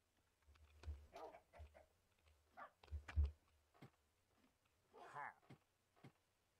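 Minecraft dogs give short, faint, scattered yips and barks, several separate bursts with quiet gaps, mixed with a speaking voice.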